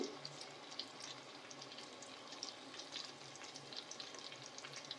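Onions frying in a pan with turmeric and fish pieces for a tangy tamarind fish curry, giving a steady close sizzle with soft crackles throughout and no talking.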